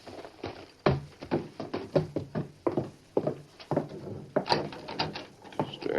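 Someone jiggling and rattling the handle of a locked door in an old radio drama, a quick run of irregular metallic clicks and knocks close by with no talk.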